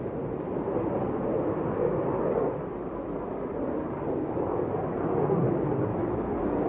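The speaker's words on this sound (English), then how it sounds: "The pilot has made it stand on its tail and is slowing down the aircraft to 0 speed." Military jet held nose-up in a tail-stand maneuver, slowing to a hover at an air force passing out parade: a steady, loud, broadband engine roar that swells and eases slightly without breaks.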